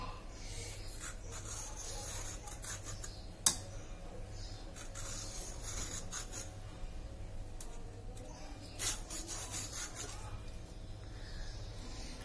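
Dry, rhythmic scraping strokes as the ridged outer skin is peeled off a ridge gourd in a kitchen, close and fairly soft, with one sharp knock partway through.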